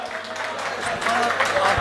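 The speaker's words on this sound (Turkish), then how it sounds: "Kocaman bir alkışlar içinde." A nightclub audience applauds while people keep talking, a loose crackle of clapping that grows a little louder toward the end.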